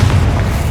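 Confringo fire spell blast in Hogwarts Legacy, a loud, short, heavy thud-like boom with dense low rumble filling under a second, alone without speech.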